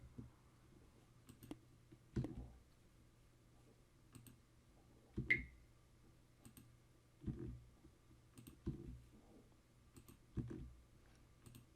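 Computer mouse clicks while working in a Wix website editor: about eight sharp, isolated clicks spaced irregularly over several seconds, close and fairly quiet against a faint background hum, with no talking.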